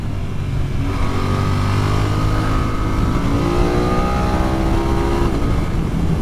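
A BMW F900R naked motorcycle rated at 105 horsepower accelerates hard: a loud, steady engine roar whose pitch climbs through the revs, heard close up and alone.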